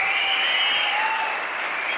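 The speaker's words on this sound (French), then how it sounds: "Applaudissements même messieurs pour Indra." Audience applause and cheering at a live show, a loud continuous wash of clapping from a crowd, steady throughout.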